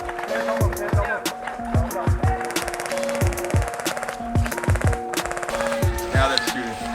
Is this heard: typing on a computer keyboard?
no